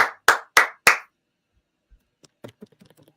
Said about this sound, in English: I'm clapping with them.